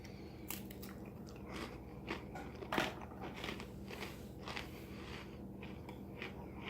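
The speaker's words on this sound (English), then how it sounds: "first I want to try one of these crackers just because they look really good" Crunchy crackers from a 1984 MRE are bitten and chewed close up, one sharp crunch followed by a run of quieter crackling chews.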